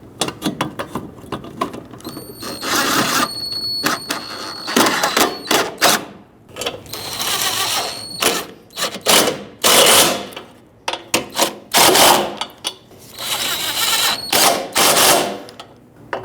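Bolts being fastened on the rear bumper impact absorber of a 2006-2011 Honda Civic, likely with a power ratchet or impact tool: repeated close, loud mechanical rattling bursts in irregular spurts with brief pauses between, no talking.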